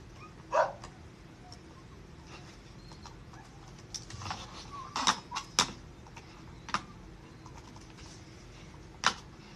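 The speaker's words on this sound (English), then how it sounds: "Now your dog's barking." A dog barks several times in the background of a quiet indoor room, with short, fairly distant yaps spaced irregularly.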